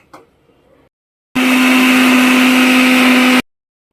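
A mixer grinder whirs steadily for about two seconds, grinding masala paste for chicken curry, a loud even motor drone starting and stopping abruptly after a brief quiet moment.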